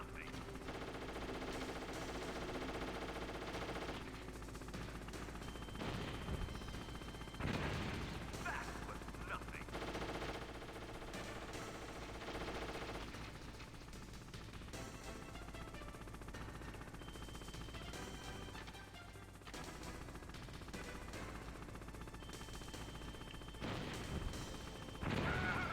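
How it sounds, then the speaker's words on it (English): Hind-D helicopter gunfire during a Metal Gear Solid boss fight against Stinger missiles, dense bursts of game gunfire and explosions over a constant loud mix, with talk running through. "I'm fighting Hind-D with Stinger missiles."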